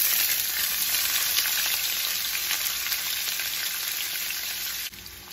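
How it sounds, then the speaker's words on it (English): Chopped onion frying in a pan with cinnamon stick and green cardamom, a loud continuous close-up sizzle with faint stirring, easing off slightly near the end. "I'm going to fry these onions for a minute, not more than that."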